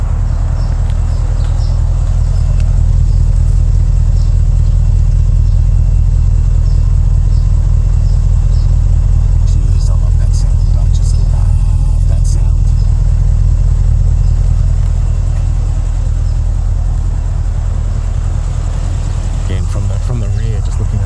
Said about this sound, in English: Just getting a little bit of the V8 burble.